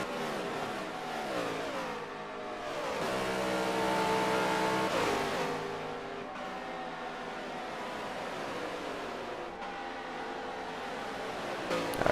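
NASCAR race cars in a racing video game lapping Homestead Miami, engine drone rising and falling through shifts as the cars accelerate, continuous and moderately loud.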